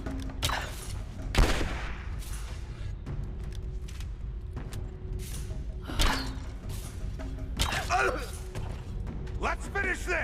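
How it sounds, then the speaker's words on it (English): Bursts of enemy gunfire in Rise of the Tomb Raider's Geothermal Valley, with several sharp cracks and thuds spread across the stretch over a steady low rumble, and voices speaking in places. "I'm under fire!"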